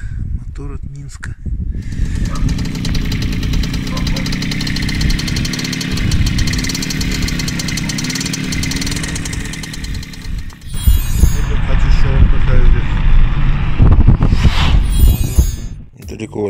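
A small Minsk motorcycle engine idles steadily with a low, knocking rumble, then revs up louder near the end; someone talks over part of it.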